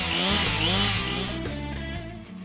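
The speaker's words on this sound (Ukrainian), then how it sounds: "Сьогодні у нашому огляді професійна бензопила штіль МС 361" A STIHL MS 361 professional petrol chainsaw runs loud and close with a steady engine whine that dips and settles lower in pitch, as if easing off the throttle toward idle.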